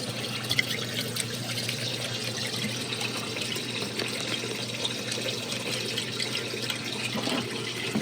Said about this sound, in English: So as the water is draining back